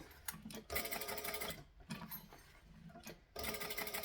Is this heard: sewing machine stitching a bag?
yes